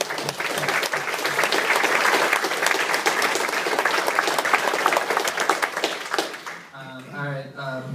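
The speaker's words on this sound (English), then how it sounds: "a big hand to our great panel" Sustained crowd applause thanks a panel at a sports and tech meetup on ticketing innovations. Dense, steady clapping fills most of the stretch, then it stops and a voice starts talking near the end.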